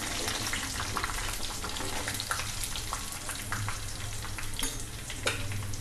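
Asafoetida dropped into a hot-oil tadka after the flame is turned off, a steady close crackling sizzle with stirring throughout, no talk.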